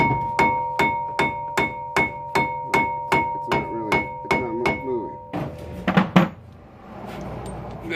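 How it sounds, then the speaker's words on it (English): Steady hammer blows on a stuck Toyota Camry brake rotor, about a dozen evenly spaced ringing metallic strikes up close, followed by a few quicker clanks and handling noise. "you can beat on it and beat on it and beat on it"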